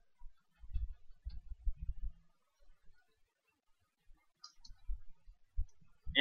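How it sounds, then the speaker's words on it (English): A computer mouse clicks close by in short clusters of faint, dry taps, separated by near silence, ending on one sharper final click. "And you can just click"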